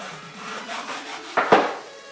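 A sander stick rubs across a wooden pencil box in soft, repeated strokes, followed by two sharper scraping hits near the end, close and fairly quiet.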